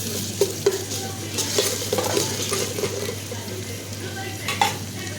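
Ginger and whole spices such as cloves and cardamom fry in hot tempering oil, crackling and sizzling up close while a spoon stirs and taps against the pan.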